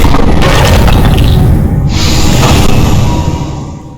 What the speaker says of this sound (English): so bam, explosion